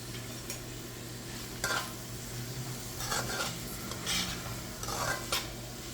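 Spoon stirring paprika and thyme into a pot of Spanish seafood stew, with several scraping strokes against the pot over a soft steady sizzle, close and alone without talk.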